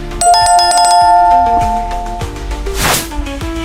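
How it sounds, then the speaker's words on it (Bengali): Mobile phone ringtone playing loudly and close, a bright repeating melodic jingle heard alone with a brief whooshing burst near the end. "আপনার ফোনটা বাজতেছে"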